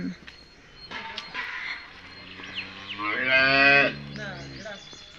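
Cows at a cattle shed, tied outside after milking, let out several loud, drawn-out moos, the longest rising near the end, while people talk nearby.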